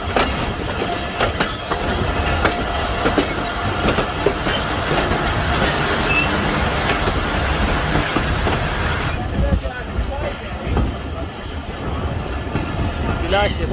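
Ravi Express passenger train pulling into Sheikhupura Junction, a steady loud rumble of rail cars and wheels with clatter, station crowd noise and voices mixed in throughout.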